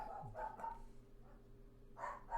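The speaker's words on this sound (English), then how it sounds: "Oh, the dog stopped barking?" A dog barks faintly in the background, a few short yips with a gap, distant and quiet beneath room tone.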